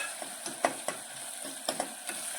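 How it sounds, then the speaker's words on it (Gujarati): Onions sautéing in a pan for a green pigeon pea curry, a steady soft sizzle with occasional stirring scrapes and light clicks of a utensil against the pan, close and moderately quiet with no talking. "હવે આપણે ડુંગળીને સડવા દેવાની છે।"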